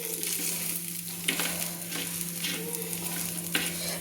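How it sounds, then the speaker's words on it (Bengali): Pieces of catla fish frying in mustard oil in a pan give a steady close sizzle with faint crackle and a few soft clicks of turning, with no voices. "এইভাবে মাছগুলোকে একটু লাল লাল করে সুন্দর করে ভেজে নিতে হবে"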